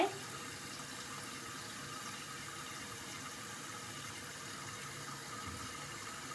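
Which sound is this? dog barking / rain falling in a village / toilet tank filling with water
toilet tank filling with water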